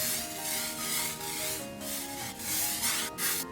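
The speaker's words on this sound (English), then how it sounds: "we just take the dry shampoo and spray it and then comb it in" Dry shampoo sprayed onto a cheap party wig and combed in, a continuous close hiss with rubbing and brushing textures that swell and dip without any talk.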